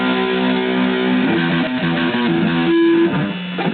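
A distorted electric guitar plays a song's intro riff, a continuous chugging run of stepped notes with a held note near the end, loud, close and unaccompanied.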